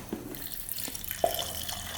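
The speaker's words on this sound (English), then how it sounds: "Looks like we've got fuel coming out already" Fuel drips out of an engine while its fuel supply is being checked, giving a few soft, irregular wet drips and splashes over low background noise, with no talking.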